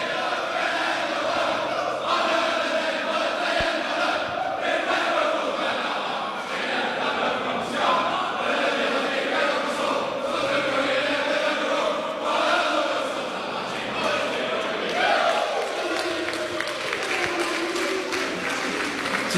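Sydney Swans players sing their team song together in the rooms after a round 1 AFL match against Collingwood, a loud, rowdy group chant mixed with cheering and clapping that carries on throughout.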